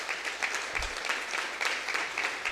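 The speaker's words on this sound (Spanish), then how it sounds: "Le damos un aplauso al Señor," A church congregation applauds during a Sunday service, many hands clapping in a steady, moderately loud wash that swells in rhythmic pulses, with no speech over it.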